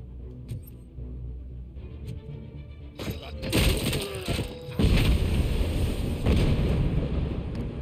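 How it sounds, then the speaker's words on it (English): A grenade blows up in the video game RoboCop: Rogue City with a heavy crashing burst and shattering debris. The roar stays loud and dense for several seconds after quieter gunfire and game noise. "I think the grenade killed someone."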